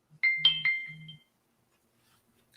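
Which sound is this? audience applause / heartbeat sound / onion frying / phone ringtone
phone ringtone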